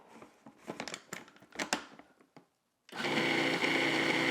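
Handling and rustling sounds, then a brief silence, and then an electric mixer starts up and runs with a loud, steady whir as it blends cilantro pesto with olive oil.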